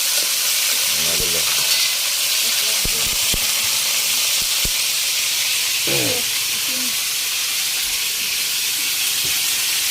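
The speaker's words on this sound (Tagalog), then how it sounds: "Gisa niya muna ng bawang." Garlic sautéing in a pan while seafood dishes are being cooked: a steady, close sizzle and hiss runs throughout, with brief clinks and scraping stirs over it and a few short voices in the background.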